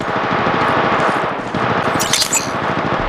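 Rapid automatic gunfire from the Apex Legends Mobile video game, loud and continuous bursts filling the whole stretch with dense crackling shots and brief sharper impacts near the end.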